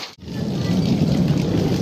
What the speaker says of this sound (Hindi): तो बारिश शुरू है